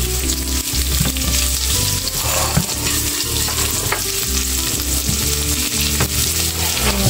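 Garlic and onion fry loudly in a pan for a Filipino year-end dish, a steady dense sizzle with scraping stirs throughout, close and continuous with no talk.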